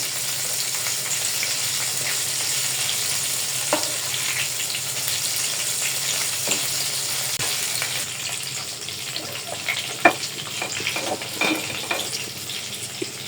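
Pieces of chicken fry in hot oil with a continuous, close sizzle and scattered pops and crackles that carry on steadily throughout.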